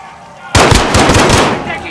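Sudden loud burst of automatic gunfire in Call of Duty Modern Warfare Warzone, rapid close shots starting abruptly after a brief quiet moment and hammering on without a break.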